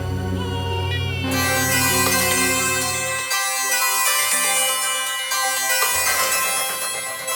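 A melodic electronic mobile phone ringtone plays loudly and continuously in a CID TV episode, its tune shifting between bright synthesized notes, with no talking over it.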